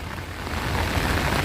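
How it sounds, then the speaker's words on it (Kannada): Heavy, continuous rain rushes in a dense, even roar that swells slightly, loud and close, with no voices over it. "ನೋಡಿ ಫುಲ್ಲು ಮಳೆ"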